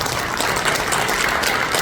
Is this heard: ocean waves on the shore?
no